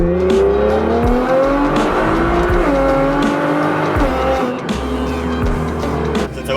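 A Nissan GTR R35 accelerating on the road, loud engine drone rising through the gears with sharp shift drops, tire and wind noise close by, no talk.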